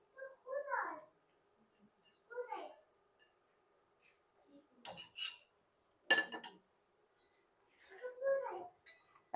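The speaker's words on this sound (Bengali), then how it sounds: "এখন আমি দিয়ে দিচ্ছি পনির আর কড়াইশুঁটি" Paneer and green peas added to a pan of simmering gravy with hot water for dhaba-style matar paneer, with intermittent clinks and scrapes of a spoon against the pan and a voice talking nearby.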